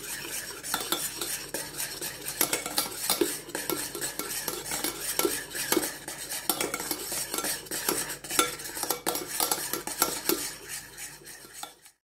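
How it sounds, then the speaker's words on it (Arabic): Homemade ice cream ingredients are stirred together with cream, the utensil scraping and clinking against the bowl in a quick, uneven rhythm close up, which stops sharply at the end. "غادي نخلط هاد العناصر حتى كينسجمو مزيان مع الكريمة."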